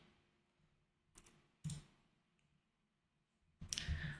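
A few sharp clicks from a mouse or keyboard, spaced apart in a quiet room, with a broader burst near the end.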